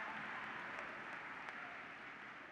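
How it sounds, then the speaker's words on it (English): Audience applause for a speaker leaving the stage at a state FFA convention, a continuous, even wash of clapping heard faint and distant throughout. "Let's give another round of applause for Cadence as she leaves the stage"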